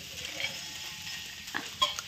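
Okra cooking in a home kitchen, soft continuous sizzling with faint stirring scrapes and a couple of light clinks of a utensil against the pan, fairly quiet.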